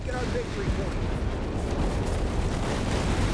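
Artillery barrage in Company of Heroes 3, a steady roar of dense rumbling explosions and booms filling the clip, loud and continuous with no clear breaks.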